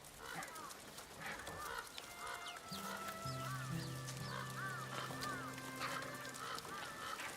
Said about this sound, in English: Some birds are fighting on the roof.